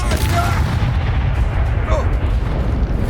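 A Confringo spell explosion in Hogwarts Legacy fills the moment with a dense, loud, continuous blast and rumble, overlapping a shouting voice.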